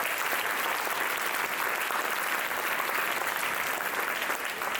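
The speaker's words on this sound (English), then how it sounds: "If we could give them a round of applause, please." An audience applauds at an anniversary event at UNC Asheville, steady full clapping from a sizable crowd, sustained and even throughout without talk.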